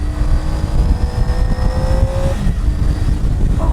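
A 2018 Triumph Tiger 800 XRt motorcycle accelerates, its engine note holding loud and steady with a rising whine before easing off near the end.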